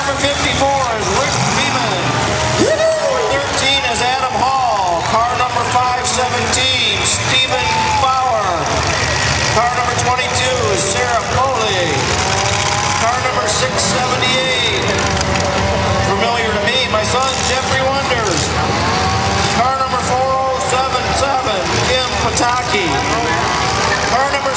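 Demolition derby cars at the Chelsea Fair revving and idling for the night's first heat, engines rumbling under a loud announcer and crowd noise, with a beeping tone mixed in.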